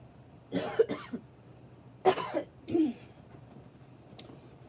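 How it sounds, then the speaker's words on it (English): A woman with a lingering cough coughs and clears her throat indoors during a quilting session. There are three close, rough bursts a second or so apart, followed by softer breathy sounds. "I'm still having coughing issues"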